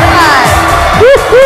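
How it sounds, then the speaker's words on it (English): A rowdy crowd at the Miss Teen USA pageant cheers and whoops loudly, with high rising shouts and calls layered over a dense roar. "We got a rowdy crowd tonight, I think."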